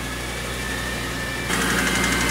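An Audi RSQ3 engine runs, a steady mid-pitched mechanical hum with vibration that swells and grows harsher partway through, close and continuous.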